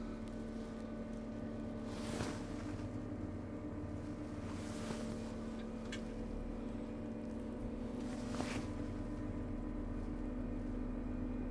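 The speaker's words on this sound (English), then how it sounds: "we're now going to drive it as if it was a tractor." A MacDon windrower with its header trailing behind, driven along in transport mode like a tractor: a steady, continuous engine drone that holds level throughout, with occasional faint knocks.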